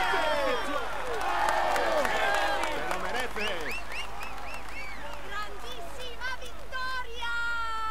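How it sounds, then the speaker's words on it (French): A large crowd lining the Champs-Élysées in Paris applauds and cheers during the Tour de France final-stage ceremony, with sustained clapping, whoops and whistles while an announcer's amplified voice carries over the din. "Applaudissez-le comme il le mérite."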